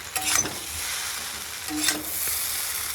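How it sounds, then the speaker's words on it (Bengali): Chowmein noodles tossed with soy sauce, vinegar and tomato sauce are stir-fried in a hot pan, giving a steady close sizzle broken by scraping bursts of stirring, with no talk. "একটু ভাজা ভাজা করে নিচ্ছি।"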